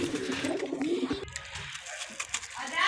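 Pigeons coo softly in hot weather, a low murmuring call for about a second followed by faint chirps and background noise.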